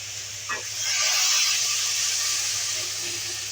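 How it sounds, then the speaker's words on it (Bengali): Water poured into a hot pan of vegetables for a Bengali lau shak chorchori, producing a steady, loud hiss and sizzle that swells and holds. "এবার আমি জল দেবো।"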